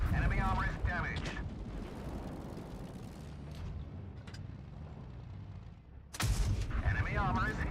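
Tank cannon fire and shell hits in the World of Tanks Blitz game: a dense, rumbling battle din with a sharp loud burst near the end, mixed with synthetic crew callouts.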